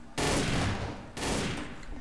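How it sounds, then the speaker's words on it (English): Two dense bursts of rapid gunfire in the game Garry's Mod, each lasting about a second, loud and close, separated by a brief pause. "Hear gunshots."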